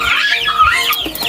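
Young Brahma chicks in a brooder, peeping and clucking in a continuous close chorus of chirps with no talking.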